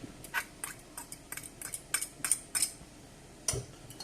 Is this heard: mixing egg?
yes